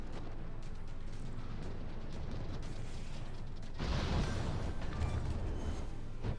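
Rockets striking and exploding on a warship in a naval video game, a dense rumbling barrage of bursts that swells louder partway through against a steady mechanical background, with no voices.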